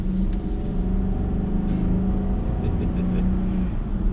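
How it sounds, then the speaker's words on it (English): A deep, steady V8 engine rumble heard from inside the cabin of a 2022 Infiniti QX80, droning continuously as the car accelerates. "if you guys put your foot to the floor, or midway to the floor, you can hear that V8 rumble through the cabin."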